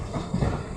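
A train slowing to a stop at Panbazar station in Guwahati, a brief low rumble of wheels and carriages close by, no voices.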